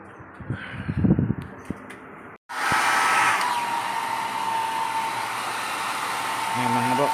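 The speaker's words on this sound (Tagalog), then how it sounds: "Yan mga bok, blower na ni Ebet" A powerful air blower blasts into the inside of a flooded, submerged engine. Brief talk and clatter come first, then a loud, steady rushing roar starts abruptly and holds to the end.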